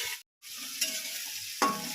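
Food frying in a home kitchen pan, a close hissing sizzle with a couple of sharp stirring scrapes, interrupted by a brief gap early on.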